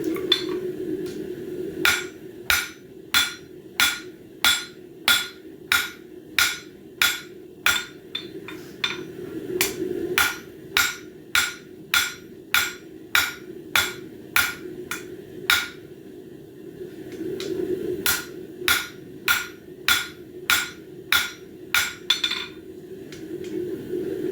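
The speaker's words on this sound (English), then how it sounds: "by hammering back on the corners" Hammering on the corners of a metal bird feeder hanger frame to square it up: sharp, ringing hammer strikes in steady runs of rapid blows with short pauses between, close and loud over a low room hum.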